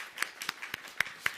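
A church congregation gives a brief round of applause. Only a few scattered, fairly faint claps are heard in an uneven rhythm, with no voices over them.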